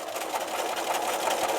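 A sewing machine back stitches through a quilted fabric placemat, a steady fast mechanical whirring hum running unbroken at close range with no talk.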